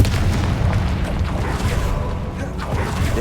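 A Confringo blast spell fires in a Harry Potter video game, producing a loud, rumbling explosion with a heavy low roar that holds steadily for several seconds.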